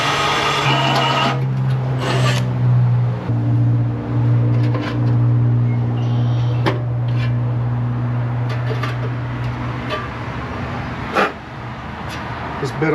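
A drill bit bores a roughly 5/16 inch hole through the body metal of a 1962 Chevrolet C10 pickup truck. It makes a steady, close grinding whine with a scraping rasp that fades toward the end, and a voice speaks briefly.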